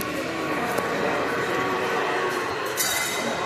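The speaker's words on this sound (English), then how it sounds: "old train set" At a train show, an old model train set runs with a continuous rolling rattle and light metallic clinks, heard amid the busy background noise of the hall.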